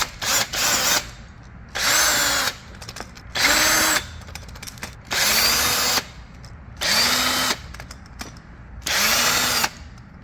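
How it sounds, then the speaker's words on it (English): A power drill backs out six screws from the waste tray of a Brother printer, in about six separate whirring bursts, each rising then winding down in pitch, close and loud with brief quiet gaps, no voices. "Remove these 6 screws on the waste tray."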